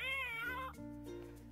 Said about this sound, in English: the box actually meows.